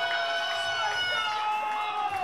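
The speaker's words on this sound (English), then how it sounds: "Wow, you can hear the crowd right now." At a national shuffleboard doubles final between Brooklyn and Chicago, a crowd cheers and whoops with a bright, sustained roar of overlapping voices at moderate distance.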